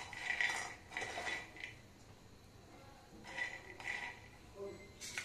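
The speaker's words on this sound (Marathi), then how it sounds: "शेंगदाणे भाजत टाकलेले आहेत, हे थोडेसे आपल्याला शेंगदाणे भाजून घ्यायचे आहे" Peanuts dry-roast in a pan for sesame laddoos, giving faint, scattered clinks and rattles as they are moved about, quiet and close with no one talking.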